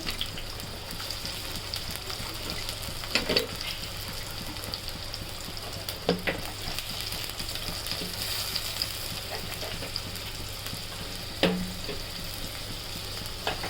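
Chopped onions sizzle in a pan while making fish egg bhurji, a continuous close hiss of frying with occasional spatula scrapes and taps against the pan, no talking.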